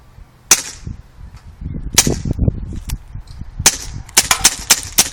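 A Dan Wesson CO2 revolver fires at a white can outdoors, giving sharp, close pops spaced a second or so apart and then a quicker string of shots, each with a short metallic ring.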